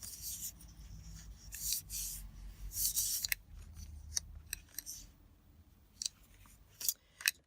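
Scissors trimming scrapbook paper for a journal, a series of close, crisp snipping cuts with rustling paper in between, sharp bursts spaced irregularly and fading toward the end.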